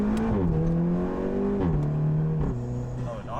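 Golf R intake noise under acceleration, heard from inside the car: a loud droning engine tone climbs steadily, drops sharply at each of two quick gear shifts, then rises again.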